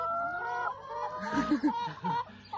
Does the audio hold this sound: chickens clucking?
yes